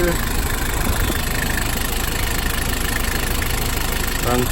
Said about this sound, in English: runs smoothly for a naturally aspirated diesel.